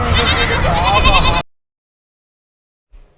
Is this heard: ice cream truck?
no